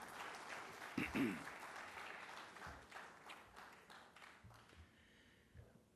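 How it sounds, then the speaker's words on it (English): Audience applause after a plenary presentation at a conference session, a short burst of clapping that fades gradually, faint and somewhat distant, with murmuring voices mixed in. "a round of applause for this fantastic presentation"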